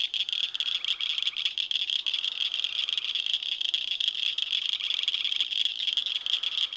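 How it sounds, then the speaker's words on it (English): Frogs croak at night in a dense, steady chorus of rapid rattling calls, continuous and fairly loud, with insects adding to the unbroken outdoor din. "Listen to those frogs."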